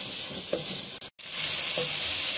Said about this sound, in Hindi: लहसुन अदरक डालने के बाद मैं इसको 2 मिनट तक भूनूंगी